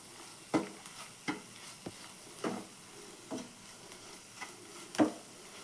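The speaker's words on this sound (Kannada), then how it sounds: "ಸೈಡಲ್ಲಿ ಎಣ್ಣೆ ಬಿಟ್ಕೊಳ್ಳೋವರೆಗೂ ಚೆನ್ನಾಗಿ ಫ್ರೈ ಮಾಡ್ಕೊಳ್ಳಿ." Soya masala frying in oil, with a steady faint sizzle punctuated by about seven evenly spaced spatula scrapes and taps against the pan, fairly close and without talk.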